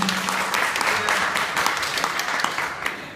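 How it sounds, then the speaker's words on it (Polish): Applause for Polish weightlifter Bartłomiej Bonk at an event, a dense, sustained burst of many hands clapping throughout, fairly loud and close with voices mixed in. "Brawa."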